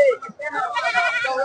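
Goats at a goat and sheep market bleating close by, a short wavering bleat followed by a longer quavering cry, mixed with people talking.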